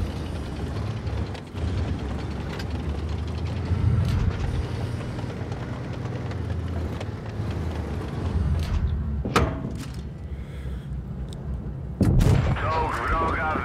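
Tank cannons boom across a World of Tanks Blitz battle, with several heavy shots and mechanical clanks over a steady rumbling game backdrop, the last blasts sharp and loud.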